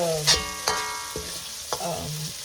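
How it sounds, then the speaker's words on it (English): Finely chopped onion stir-frying in oil in a pan for a spicy chicken karahi, with a steady sizzle broken by four distinct scraping stirs of the spatula, close and clear with no talking. "I will just stir it and make it like in a pink color"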